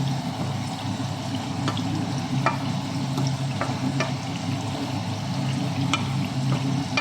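Chicken in a hot pan is stirred and mixed, giving a steady sizzle with periodic scraping and clinking strokes of the utensil, close and continuous with no talking.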